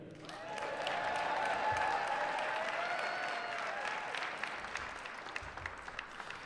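A large audience at a borough state address in Manhattan breaks into sustained applause and cheering, a dense wash of clapping that swells in the first seconds and holds steady before thinning slightly toward the end.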